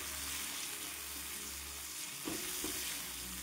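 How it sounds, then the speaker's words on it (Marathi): Green chillies and garlic roast in oil on a griddle used for jowar bhakri, giving a steady close sizzle with a couple of brief stirring scrapes near the end and no talking. "हिरवी मिरची, लसूण आणि तेल छान भाजून घेते"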